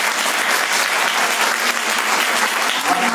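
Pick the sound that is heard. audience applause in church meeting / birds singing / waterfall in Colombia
audience applause in church meeting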